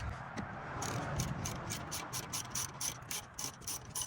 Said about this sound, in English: going to take a 13mm socket and take the bolt behind the caliper off